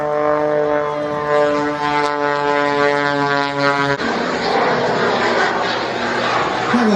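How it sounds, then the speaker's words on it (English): A jet aircraft at the Ayr air show in Scotland roars loudly overhead, first as a strong droning, whining tone, then breaking into a broad rushing blast as it sweeps past. "Why is that noise coming from that piston aircraft? It's a jet aircraft."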